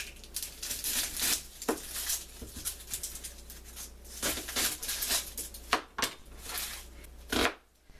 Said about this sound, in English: Now I'm going to cut up the onions, and then I'll cut up the mushrooms.